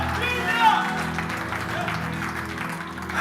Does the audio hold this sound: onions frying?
no